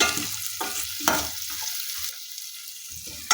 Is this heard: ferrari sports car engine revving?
no